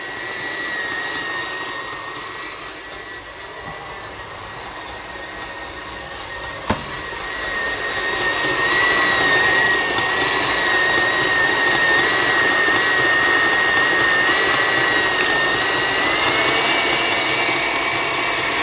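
An electric mixer whips cake batter for a praline succès cake at maximum speed, giving a steady, loud motor whir that grows stronger partway through and holds at a high pitch, with no talk.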